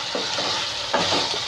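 Tomatoes and masala frying in oil for Andhra-style biryani give a steady close sizzle, with a couple of soft stirring scrapes through it.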